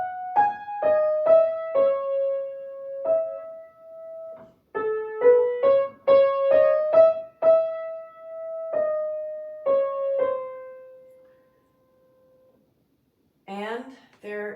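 Solo piano playing Fanny Hensel's Mélodie Op. 4 No. 2, a singing right-hand melody over a jumping bass line. Phrases of struck notes ring out clearly, then fade to near silence before a brief final burst of sound.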